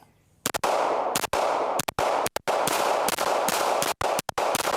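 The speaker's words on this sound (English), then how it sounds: "I'm going to shoot 10 rounds from 7 yards as quickly as I can" Ten rapid pistol shots from a Staccato P 2011 fired at a 7-yard target, loud sharp cracks in quick bursts with brief pauses between strings, no talk.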